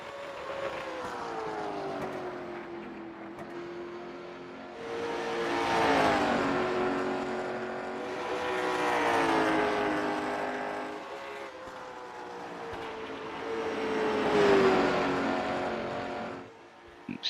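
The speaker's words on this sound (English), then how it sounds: "these cars actually do sound pretty good tonight" Late model stock cars roar around the Richmond track at night, engines loud and close, rising and falling in three long swells as the cars pass, with a steady droning whine between passes.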